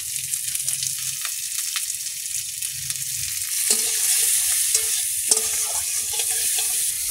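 Sliced onion and puti fish fry with turmeric in hot oil, a close, steady sizzle that grows fuller and crackles more brightly partway through, with stirring scrapes in the pan.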